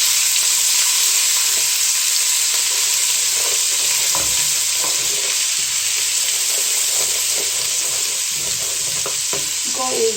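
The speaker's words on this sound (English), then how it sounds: "So my oil is a bit hot. I'm going to add my ginger and garlic in there. Let's fry for a bit." Ginger and garlic sizzle loudly and continuously in hot oil in a pan for coconut rice, with a bright steady hiss up close and faint scrapes of stirring underneath.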